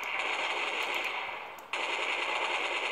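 Rapid automatic gunfire from Counter-Strike 1.6, a steady loud burst that briefly dips and then resumes, with no talking over it.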